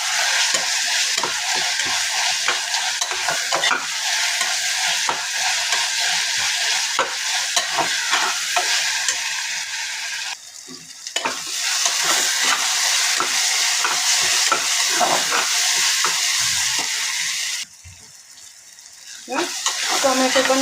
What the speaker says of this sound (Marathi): परतून झाला की त्यात टाकायचे टोमॅटो आणि थोडंसं मीठ